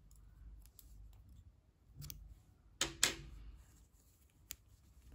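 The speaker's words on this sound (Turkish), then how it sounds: "İpliği burada kesiyorum." Crochet yarn snipped with scissors: two crisp, close cuts in quick succession, then a lighter click, over a quiet room hum.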